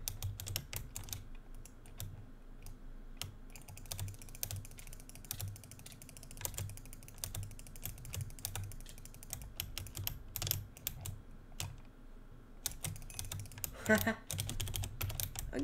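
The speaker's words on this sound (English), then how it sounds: "Sorry if the keyboard was loud today, guys." Steady, rapid clatter of a computer keyboard being typed on through the whole stretch, close and moderately loud, with occasional speech and game sounds underneath.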